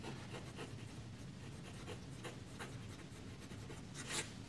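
Steady scratchy rasp of a flexible fountain pen nib gliding across paper, close up, with rhythmic strokes and a brief louder scrape near the end.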